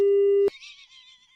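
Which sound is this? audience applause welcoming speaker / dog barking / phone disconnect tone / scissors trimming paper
phone disconnect tone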